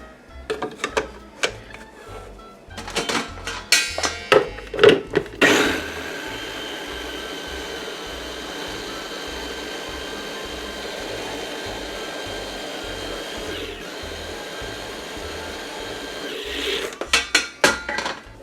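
A food processor purees whole tomatoes for homemade tomato paste: a few sharp clatters and knocks, then a long steady motor whir lasting over ten seconds, followed by more clattering at the end.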